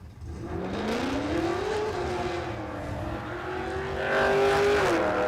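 Late-model car on a drag racing run at Warwick Dragway, its engine climbing in a loud, sustained rev that steadies and then swells louder near the end, with a hint of tire squeal.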